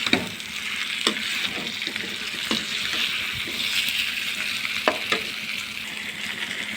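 Prawn and jackfruit curry being sautéed in a wok, a steady moderate sizzle broken by occasional scrapes and knocks of a spoon against the metal.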